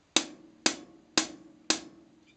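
Four evenly spaced, crisp closed hi-hat strikes with the pedal held down, each short and tight, ring briefly with a light thump beneath, played clearly and alone in a rock beat.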